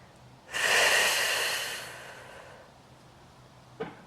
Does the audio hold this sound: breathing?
yes